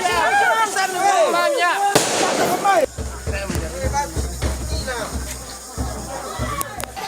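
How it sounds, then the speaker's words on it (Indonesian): Firecrackers and thrown rocks during a clash between residents and police at an eviction of a traditional Toraja tongkonan house in South Sulawesi, heard as sharp bangs and cracks amid a loud crowd, with whistling and shouting voices throughout. "Warga yang menolak eksekusi melempari aparat dengan batu dan petasan."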